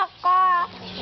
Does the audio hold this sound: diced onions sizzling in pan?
no